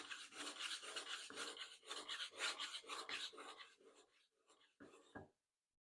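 A burr being raised on a woodworking scraper with an Accu-Burr tool: repeated close rasping strokes in a rough rhythm, tapering to a few scattered scrapes and a final short stroke before silence.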